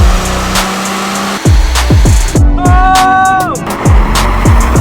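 BMW M140i with a hybrid turbo spinning its wheels in fifth gear on a freezing day, loud engine roar with rising revs and a brief squealing whine, a voice exclaiming over it.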